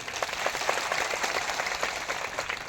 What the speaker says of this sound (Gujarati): જોરદાર તાળીઓ પાડી લો.